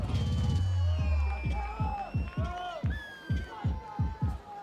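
A crowd at a freerunning world championship cheers and whoops in rhythmic bursts as an athlete takes the stage, while a commentator's voice carries over the noise.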